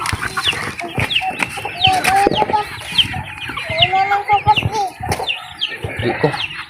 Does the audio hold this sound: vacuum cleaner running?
no